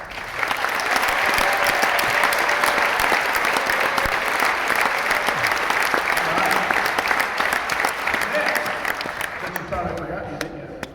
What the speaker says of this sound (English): the 3 managers can stand up and give them a round of applause